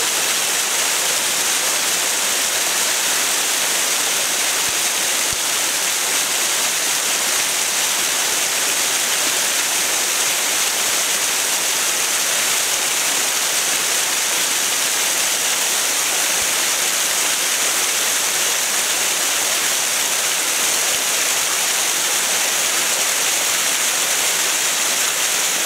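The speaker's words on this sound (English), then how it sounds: "Looks like there's still more waterfall above." Dense, constant roar of Yellow Bamboo Falls in Japan, loud and unbroken throughout, with a broad hissing wash and no voices.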